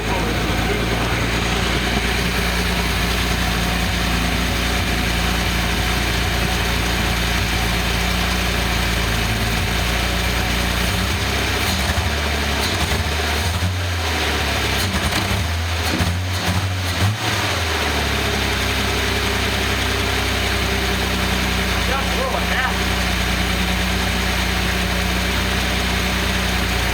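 A car engine idles on an engine run stand with a steady loud rumble and vibration that continues throughout, with a brief dip and unsteadiness midway before settling back to an even idle.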